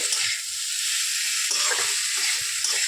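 Paneer sautéing in a pan for a dry mustard paneer dish, giving a steady loud sizzle with soft stirring scrapes of the spatula throughout.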